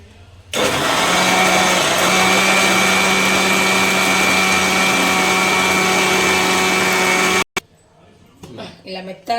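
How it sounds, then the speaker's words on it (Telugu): A mixer grinder churns peanut chutney with water and salt in a loud, steady whirring drone that runs for about seven seconds. It then cuts off abruptly and is followed by faint handling noises. "ఇలా మెత్తగా గ్రైండ్ చేసుకోవాలి."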